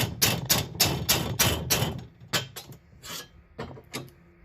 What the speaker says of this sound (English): Final tap. I love a good ball peen hammer.